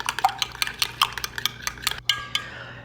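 Horseradish is mixed into a shrimp dip with a spoon in a bowl, producing a quick series of close, crisp clinks and scrapes in an irregular rhythm, alone without talk.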